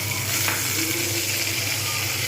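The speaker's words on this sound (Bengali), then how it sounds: "আদা বাটাটা দিয়ে দেবো একটু জল দেবো" Ginger paste with a splash of water sizzles steadily in a hot pan, a loud continuous hiss with faint stirring, and no talk over it.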